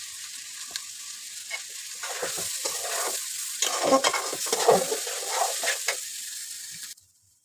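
Polao rice frying in a pan with browned onions, stirred steadily: a bright sizzle under repeated scraping strokes of a spoon that grow busier midway, then stop abruptly.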